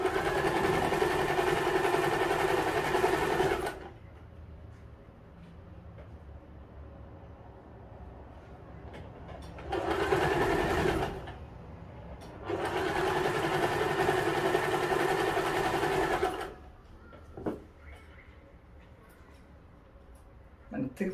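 An electric sewing machine stitches both edges of a tracksuit cuff hem in bursts, running with a loud, close mechanical whir for several seconds, pausing, then starting again in shorter and longer runs, with quiet handling noises in the gaps.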